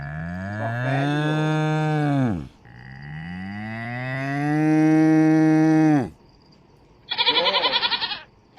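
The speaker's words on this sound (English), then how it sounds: "Buffalo." A buffalo lowing, two long, deep, drawn-out moos close up, followed by a shorter, rougher, higher bellow after a brief pause.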